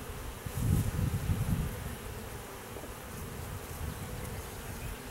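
Honey bees buzz steadily around an open hive super during an inspection, a dense close drone that swells loudly early on, then settles into an even hum.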